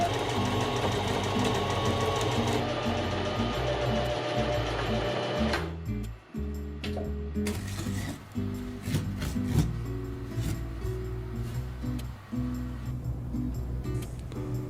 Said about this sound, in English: Use your sewing machine to trace that line you just created on the back of your palm.